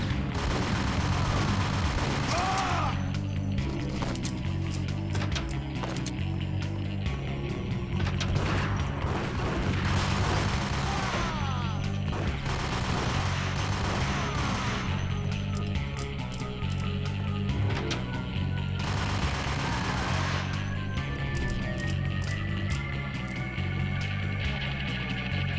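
Gunfire in Max Payne comes as rapid, repeated sharp shots and bursts over a steady, pulsing music bed, the shooting dense and loud in places and sparser in others across the stretch.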